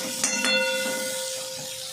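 Chopped onion sautés in a hot pan for chana masala, a close, soft sizzling hiss with a couple of brief pops early on and a faint steady tone running underneath.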